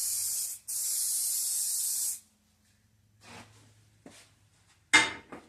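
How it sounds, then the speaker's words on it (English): Glue accelerator sprayed onto wood during acoustic guitar building gives a loud, close hissing burst that stops briefly and resumes for about two seconds, then gives way to faint handling and tapping sounds. "Spray your other side with the accelerator."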